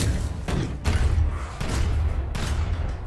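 Repeated heavy booms of a cannon firing in a video game, a few loud thumping blasts spaced about a second apart over a dense rumbling game soundtrack, with no talking.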